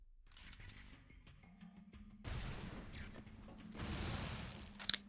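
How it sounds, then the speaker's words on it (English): A cluster explosive in the shooter game Loadout goes off, a short electric crackle followed by two bursts of rolling, crackling blasts, fairly quiet with a sharp pop at the end. "Does a mini electric explosion before and then explodes into multiple explosions."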